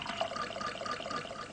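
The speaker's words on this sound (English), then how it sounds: "Got first of all pouring water, then we'll throw the spoon in" Water poured for making tea, a soft, short trickling splash of liquid that runs quietly and evenly for a moment with no voices.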